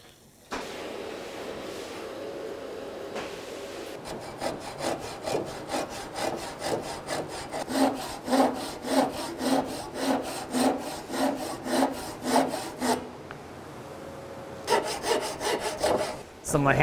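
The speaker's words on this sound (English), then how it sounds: "trace a line around the leg that I can then cut to with a handsaw" A handsaw cuts through a wooden stool leg at a woodworking bench with steady, rhythmic rasping strokes, close and clear, and brief pauses before and after the sawing.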